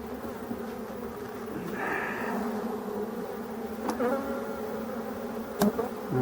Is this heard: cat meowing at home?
no